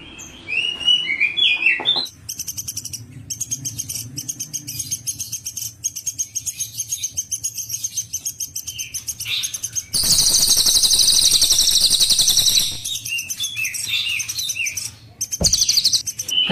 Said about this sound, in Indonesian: Ya, ini pelatuk beras.